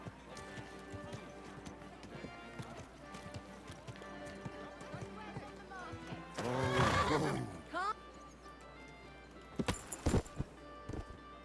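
In a video game, hooves clip-clop steadily, then a horse whinnies loudly up close, with quieter bustle and voices around it and another short whinny later.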